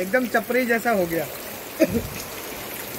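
Rain falls steadily outdoors while a half-finished wall mural for an Independence Day wall art project gets soaked, heard as a soft, constant wash beneath someone speaking Hindi close by.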